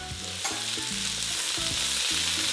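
Onion and garlic sautéing in a pan for Filipino adobong sitaw, a steady close sizzle of frying with no voices, constant and even from start to finish.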